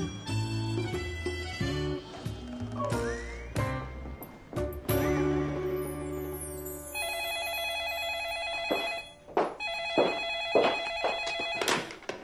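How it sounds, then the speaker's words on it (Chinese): A telephone rings repeatedly with bright electronic trills, mixed with a dramatic musical score and sharp percussive hits. "主任又来电话了，催您开会了"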